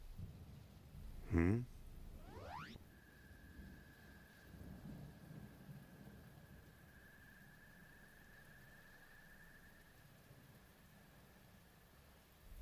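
Steady rain hisses throughout, with a sharp thunder crack early on and a low rumble beneath, plus a faint thin tone running through the background.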